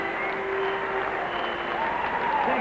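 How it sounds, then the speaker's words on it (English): Crowd applause at a 1995 Test cricket match in Jamaica between Australia and the West Indies, as Steve Waugh reaches 150: steady, broad clapping from a distant stadium crowd, with a faint tone and murmur over it. "Michael Slater leading the applause from the rooms."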